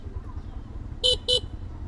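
A car horn by a roadside gives two short, sharp honks in quick succession, standing out clearly over a low rumble of passing traffic.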